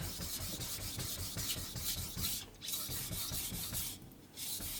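Steady back-and-forth rasping of a VG10 steel knife being sharpened on Atago #1000 and Rika #5000 whetstones, close and continuous, with two short pauses between strokes.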